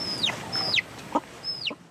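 Farm chickens cluck in a few short, separate calls spread over two seconds, moderately close against a quiet background.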